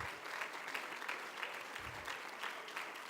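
A university convocation audience at California State University, Dominguez Hills, claps steadily in a large hall, a soft, even wash of many hands heard at a distance.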